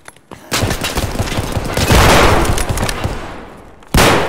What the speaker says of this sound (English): Ow, he shot me.